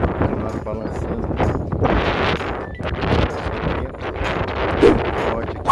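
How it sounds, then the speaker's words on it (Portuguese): Strong gusting wind buffets the microphone at an airport while a small plane comes in to land, a continuous rough roar that swells and fades, with someone talking over it. "Vento forte aqui."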